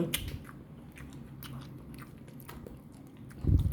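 Someone eating a Thai spicy noodle salad (yum) from a 7-Eleven box, a few soft close bites and chewing sounds, quiet, with a louder crunchy bite near the end.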